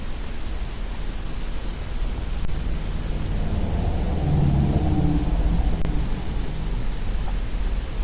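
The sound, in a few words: vehicle speeding past on rural road, like a motorcycle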